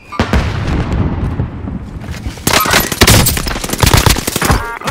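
Dense bursts of video-game gunfire, an intense fusillade of rapid shots and blasts that builds louder after a short lull, loud and close with no talking.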